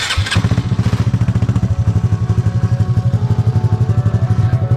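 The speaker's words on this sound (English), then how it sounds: "So now we're gonna head warm up the Grom and see if there's no leaks." Honda Grom motorcycle engine idling after an oil change, a close, loud, steady pulsing thump with even rapid firing beats throughout.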